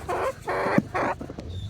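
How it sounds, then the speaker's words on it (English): Three clear, loud clucks in a steady rhythm from a Brahma Frizzle chicken nearby, followed by quieter background noise. "this is actually a Brahma Frizzle."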